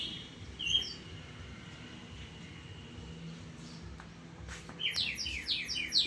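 A water-filled bird whistle toy blown on a rooftop warbles in faint, quick chirping trills that imitate bird calls, soft at first and busier near the end.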